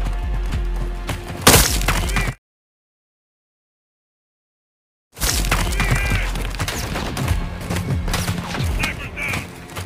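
A sniper rifle shot in a Call of Duty game rings out as a loud, sharp crack, followed by a stretch of silence and then dense gunfire, clatter and battle noise.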